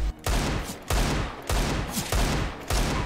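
Rapid gunfire bursts from the video game CS:GO, five loud, close volleys of automatic fire separated by short pauses, sharp and dense.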